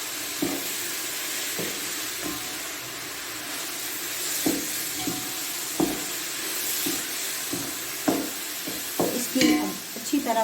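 Gajar ka halwa cooked in desi ghee, stirred with a scattering of scraping taps over a steady frying sizzle and hiss, fairly quiet and close.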